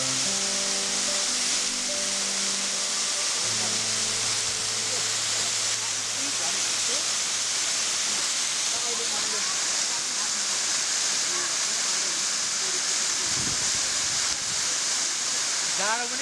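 Sawalung waterfall roars as a loud, steady broadband rush of falling water, continuous and close throughout, with brief faint tones and bumps early on.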